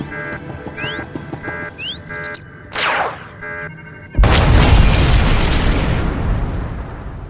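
The Deathmark laser is destroyed in Star Wars: The Old Republic. After a few short electronic game blips and a swooshing sweep, a loud, sustained explosion erupts and rumbles on for several seconds.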